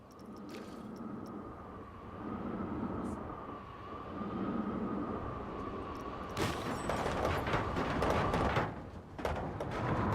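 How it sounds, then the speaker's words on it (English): Steam train with covered cars running in Planet Coaster 2, a steady mechanical rumble and hum of the moving train that grows louder and busier toward the end, with clatter and sharp transient knocks layered in. "Steam train, covered cars."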